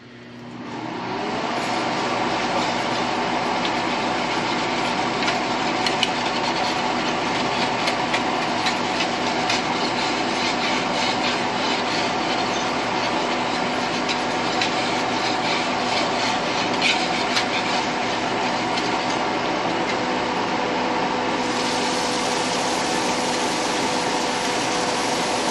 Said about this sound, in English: I'm going to also turn on the fume hood, so it might get a little bit loud.